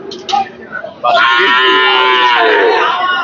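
A heifer calf at Hazratpur cattle market in Keraniganj lows once in a long, loud, close moo after brief market chatter.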